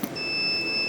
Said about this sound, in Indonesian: maka buzzernya akan ikut berbunyi